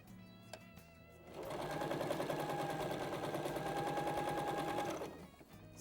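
A sewing machine runs steadily for about four seconds, stitching a strip of fabric for a twist-technique table runner, its rapid needle chatter loud and close with a brief quiet lead-in and tail.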